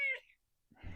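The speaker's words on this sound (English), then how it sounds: "That's my cat that you might hear in the background there." A house cat meows briefly in the background, one short faint call followed by a soft rustle, no talking over it.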